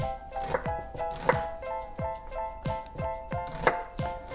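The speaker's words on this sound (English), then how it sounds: "You can chop the onion however way you want it." A knife chops an onion on a cutting board in steady, evenly spaced sharp taps, close and fairly quiet, with a faint tonal hum in the background.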